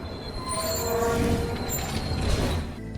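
A game train speeding up with a steady rumble and metallic wheel noise that stays loud and continuous, then runs off the rails in a city in the video game Eternights.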